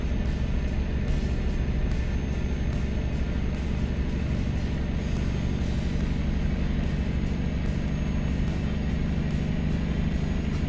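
Truck in American Truck Simulator climbing uphill, a loud, steady low diesel engine drone held at high revs for about ten seconds with a fine rhythmic throb, no talk.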